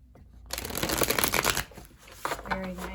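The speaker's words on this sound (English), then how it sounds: "I'm going to shuffle them just to show how they shuffle." Brand-new oracle cards shuffled close by in a quick riffling burst, followed by softer slides and taps, with a brief voice near the end.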